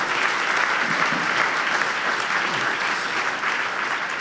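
An audience at a live book conversation between Bart De Wever and Rik Torfs breaks into applause. The clapping is full and sustained, a steady, even roar of many hands from start to finish.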